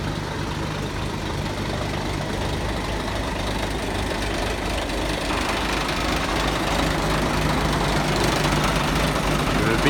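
A Scania hook lift truck's diesel engine idles steadily, a close, continuous low rumble with a faint knocking texture that grows slightly louder partway through.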